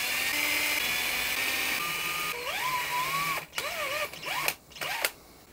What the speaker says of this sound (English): I'm going to hand drill the side dots.